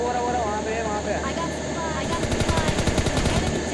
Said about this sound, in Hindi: राइट से फायरिंग की आवाज़ आती है